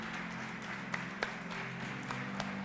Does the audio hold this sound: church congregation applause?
yes